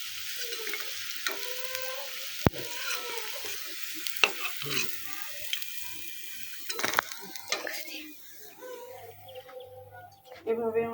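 Chicken pakora crackles and sizzles steadily in hot oil, with scattered sharp clinks of a utensil against the pan and a voice talking over the frying at moderate level.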